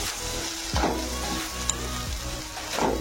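Okra with lemon juice being stirred in a frying pan: a steady, close sizzle with a few soft scraping strokes of the spoon, no voices.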